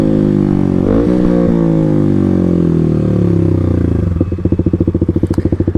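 A Kawasaki KLX300 dirt bike engine drones loudly and steadily while riding, then drops to a rhythmic, pulsing chug as it slows, close and with no talk.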